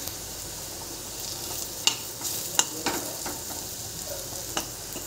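Bitter gourd frying in a pan, a steady soft sizzle with a few sharp clicks of a spatula scraping and stirring, close and alone.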